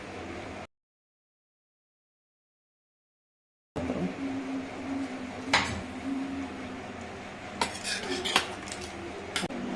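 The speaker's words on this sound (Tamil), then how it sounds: "ஸ்டீம் போயிடுச்சு குக்கரை ஓப்பன் பண்ணலாம்" A pressure cooker holding soya-chunk (meal maker) gravy is opened. After a stretch of silence, its metal lid clatters and scrapes nearby, with several sharp clinks toward the end.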